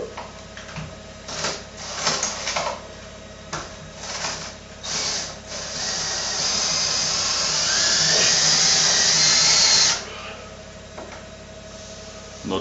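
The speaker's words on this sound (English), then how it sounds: "I can screw in aluminium pretty easy" A drill drives screws into an aluminium frame while vertical blinds are being fitted, first in short bursts amid clatter and handling knocks, then in one sustained whine that rises in pitch before stopping abruptly.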